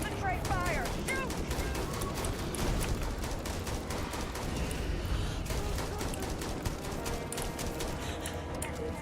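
Dense, sustained gunfire in the sci-fi video game Starfield, with rapid bursts of shots layered over a constant loud battle din for the whole stretch.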